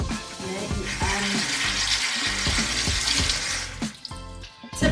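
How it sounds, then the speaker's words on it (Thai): Tap water runs steadily into a kitchen sink while an eggplant is washed under it, with hissing flow and irregular splashing and handling noises close by for several seconds. "เราจะล้างนี่ก่อนเลยนะคะมะเขือยาว"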